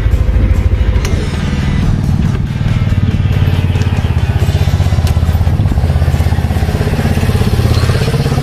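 A Yamaha NMAX 2020 scooter engine runs steadily up close, a continuous buzzing putter with no pauses.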